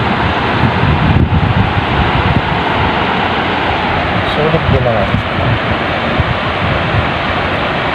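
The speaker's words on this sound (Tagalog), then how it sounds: "ah, laki ng alon." Large ocean waves crash and wash along the shore at a fishing spot, a steady loud broadband roar mixed with wind buffeting the microphone, while a person speaks briefly over it.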